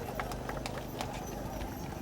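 Dapple gray draft horses weighing over 2,300 pounds each clip-clop along the street in a 1990 festival parade, steady hoof strikes ringing out over crowd noise and a nearby voice.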